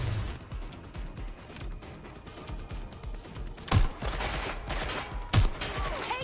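Gunfire in the video game Watch Dogs Legion: rapid automatic bursts rattle steadily, punctuated by two louder sharp blasts, with a dense rumbling game soundscape underneath.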